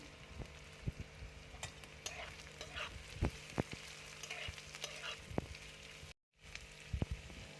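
Chopped onions and carrots frying in hot oil produce a busy sizzle broken by scraping and stirring knocks, and there is a brief dropout near the end.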